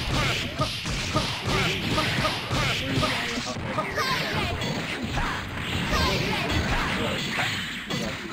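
Repulsor proton cannon attack in the fighting game Marvel vs. Capcom 2, a dense, loud barrage of crashing, whooshing beam and impact sounds running without a break, with game noise thick throughout.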